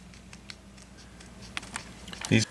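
Traditional scissors cut the inside radius of an acoustic guitar pickguard, giving soft, faint snipping ticks spread through the moment and then a louder, close crunching cut near the end.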